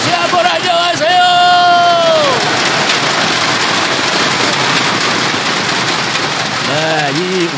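Loud, dense cheering and roaring from a large outdoor audience at a televised Korean singing contest in Jincheon County, North Chungcheong Province, a sustained wash of crowd noise with a host's voice briefly over the start and end.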